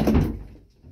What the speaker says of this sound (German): und ich gehe durch die andere Tür.